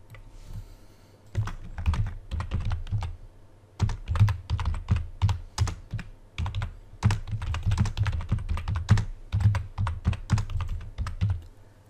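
Rapid typing on a computer keyboard while entering values into a CATIA V5 dialog box, a close, steady stream of crisp key clicks in quick bursts with brief pauses, no talking.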